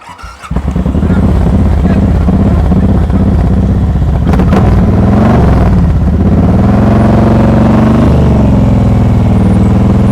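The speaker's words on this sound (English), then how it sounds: "Listen to your engine when I'm on your motorcycle." A motorcycle at a slow-speed riding practice session starts up and settles into a steady idle, its engine rumbling loud and close with an even, continuous throb.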